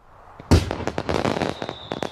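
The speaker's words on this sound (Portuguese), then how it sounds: "Antes era usada em fogos de artifício, mas os militares logo viram o seu potencial para a guerra." Gunpowder fireworks burst in a sharp, loud crack followed by a dense run of crackling pops that carries on to the end, with a faint high whistle toward the close.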